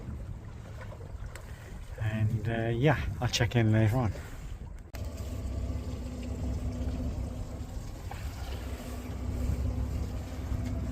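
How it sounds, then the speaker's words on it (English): A Honda 225 hp outboard motor on a Fibrafort centre console boat drones steadily beneath wind noise near Cork harbour, with a person speaking briefly over it near the start. "I'm out today with my 225 horsepower outboard"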